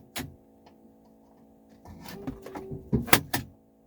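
Central locking on the passenger door of a 1984 Mercedes 300SD unlocking, a sharp click followed by a soft pneumatic whir and a quick cluster of clunks and taps, close and alone.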